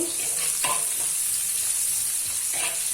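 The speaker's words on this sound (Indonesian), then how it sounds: "Pertama masukkan bawang merah. Ini kita tumis-tumis dulu" Shallots sautéing in a hot wok, a steady loud sizzle with a few stirring scrapes over it, no voices.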